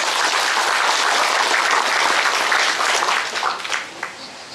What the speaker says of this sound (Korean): 멀리서라도 이제 박수로 한번.